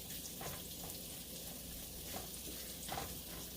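Potatoes frying in a pan for breakfast, a faint steady sizzle with a few soft pops, low and unbroken with no voices.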